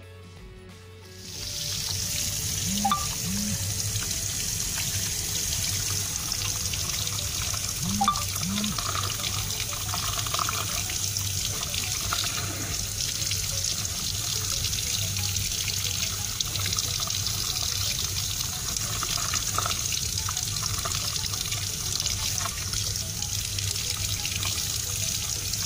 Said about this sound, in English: Let's try some water on the speaker grill.